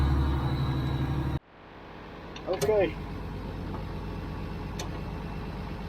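A 45-year-old International 1486 tractor's engine runs with a steady low idle, an earlier louder stretch cutting off abruptly before the quieter idle continues, with a brief spoken word over it.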